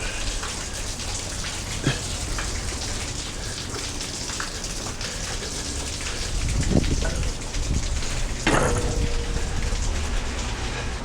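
Steady rain falls at an outdoor site where a large steel fence is being built, a continuous close hiss of drops on surfaces with a few louder splashes and knocks partway through, and no voices.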